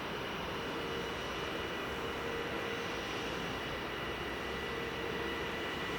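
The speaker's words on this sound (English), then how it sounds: "Now taxiing in is this Airlines Airbus A320." An Airbus A320 taxiing in at Manchester Airport gives off a steady, broad engine roar at moderate distance, continuous and unbroken with no voices.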